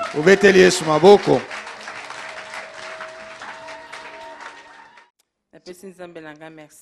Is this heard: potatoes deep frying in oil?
no